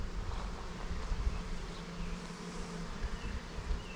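Honey bees swarm over the tops of hive frames in a package colony two months after install, a thick, continuous close-up buzz with slight wind rumble underneath.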